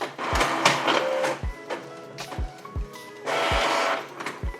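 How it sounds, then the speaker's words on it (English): A Canon PIXMA G-series inkjet printer prints a nozzle check page, with repeated mechanical thumps and whirring carriage passes, bursts of buzzing motor noise, close and moderately loud. "I start the maintenance with the nozzle check print"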